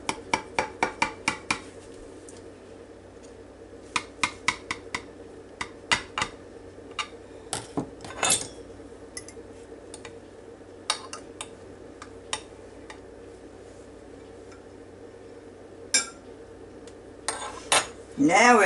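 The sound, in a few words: knife cutting into warm pecan bread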